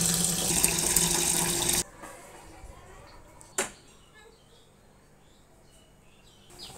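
Tap water runs over mesta leaves in a sink, a close, steady splashing rush for nearly two seconds that then stops, leaving quiet with a faint clink.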